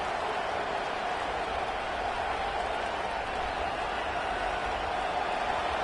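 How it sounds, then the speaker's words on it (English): A football stadium crowd for Ohio State versus Oregon roars as one dense, unbroken wall of noise, steady and loud from a distance throughout. "It is getting loud as this crowd tries to help its defense."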